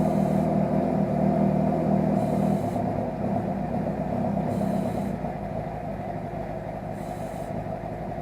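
A motorcycle engine idles steadily while being fogged for winter storage, giving a loud, continuous rumbling drone with periodic hissing bursts from the fogging spray; no one talks.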